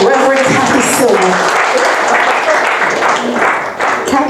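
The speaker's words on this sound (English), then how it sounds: "an applause for Reverend Kathy Silva" Loud, dense audience applause at a spiritual conference, continuous clapping from a full room with a voice speaking over it.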